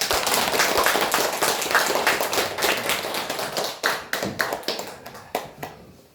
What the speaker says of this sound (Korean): 우리 박수 환영해드립니다